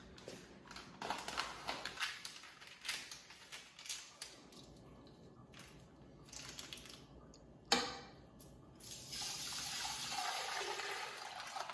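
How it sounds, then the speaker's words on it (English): Milk pouring into a large pot for Portuguese rice pudding (arroz doce), a steady liquid pour with some splashing and light knocks of the container, growing fuller and louder toward the end. "let's get the milk in the pot."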